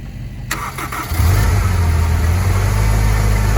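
A Honda S2000 being brought back to running condition cranks briefly, then fires and settles into a loud, steady, close engine rumble with a slight rev.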